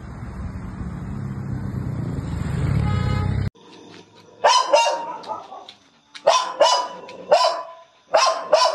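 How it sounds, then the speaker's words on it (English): A street dog barks in short bursts of two or three loud, close barks, with pauses between, after a stretch of steady background rumble. "Isn't he a beautiful dog?"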